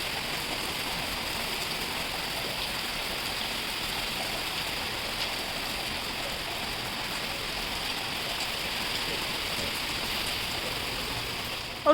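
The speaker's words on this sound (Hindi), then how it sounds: "अचानक से देखिए कितनी तेज़ बारिश होनी शुरू हो गई थी।" Heavy rain falling suddenly outside a home after bright sunshine, a dense, steady hiss of downpour that stays even and continuous throughout, with no talking.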